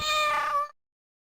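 A cat gives a single clear, loud meow up close, with a bright, rising-then-falling tone lasting under a second before cutting off to silence.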